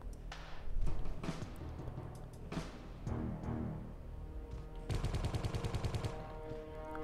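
Gunfire in the video game Geist: scattered single shots at first, then a dense, loud burst of rapid automatic fire late in the stretch, over a busy game soundscape with no talk.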